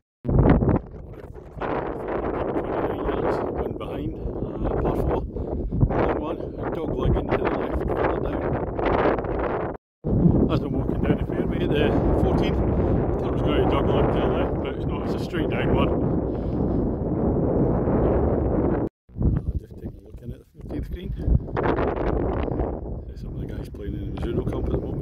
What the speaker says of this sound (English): wind's blowing left to right